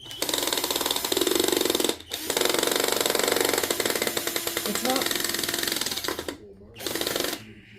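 A power drill whirs in bursts while driving a screw into wood for a birdhouse stand, loud and close, cutting out twice before starting up again.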